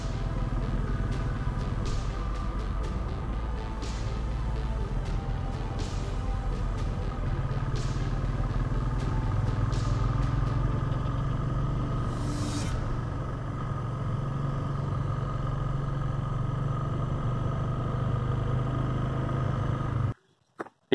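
A motorcycle rides along curvy mountain roads in Uttarakhand, its steady engine drone blending with continuous wind rush for the whole stretch before cutting off abruptly at the end.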